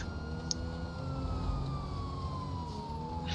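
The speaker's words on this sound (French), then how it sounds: "je pense en mettant les sirènes, on va pas le faire vite fait" Police car sirens wail in the GTA video game, a single steady tone sliding slowly downward over a low engine rumble, heard without any talking.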